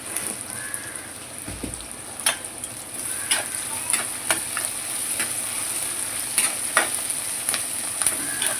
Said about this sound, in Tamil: வெங்காயம் வதங்கும் போது கொஞ்சம் உப்பு சேர்த்துங்க, கல் உப்பு சேர்த்துங்க